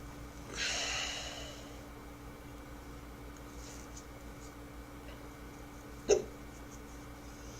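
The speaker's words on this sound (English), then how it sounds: "I love getting the hiccups." One sharp, brief hiccup near the end, preceded earlier by a breathy gasp-like intake, against a quiet room background.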